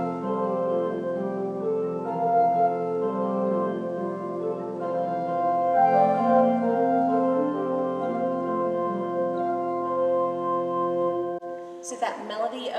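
A hymn prelude on the tune Come, Thou Almighty King layers a repeating ostinato over imitative lines and a held pedal point. The sustained tonal music plays steadily, then cuts off near the end with a brief noise.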